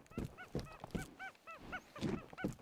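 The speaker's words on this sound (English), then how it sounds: "Chickens are aggressive in this game." Angry, aggressive chickens in the survival game Dawn of Defiance let out a rapid string of loud, harsh honking squawks, about a dozen calls in quick irregular bursts close by.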